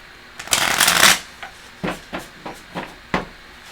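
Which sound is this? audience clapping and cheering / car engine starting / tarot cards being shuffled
tarot cards being shuffled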